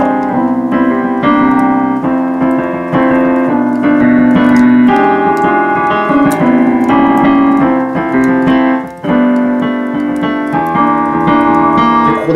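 Rich tension chords are played on a keyboard in a loose, searching, improvised way, loud and close, with sustained harmonies and steady struck notes and no talking.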